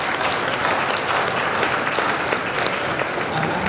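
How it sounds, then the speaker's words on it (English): An audience at a school band concert applauds the school principal, with steady, dense clapping from a crowd filling the room. "Give Dr. Weatherington a round of applause for being here."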